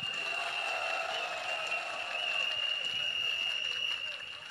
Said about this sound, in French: Il faut les applaudir beaucoup plus fort que ça